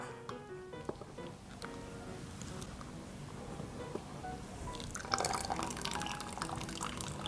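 Liquid coffee dripping and trickling from a squeezed brewing bag of strong coffee grounds, a close, wet patter of drips that grows busier and splashier toward the end.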